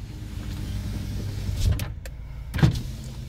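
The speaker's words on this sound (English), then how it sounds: "So the power window still works." Car power windows whir in short bursts, with two brief motor runs ending in soft thumps, close and clear over a low steady interior hum.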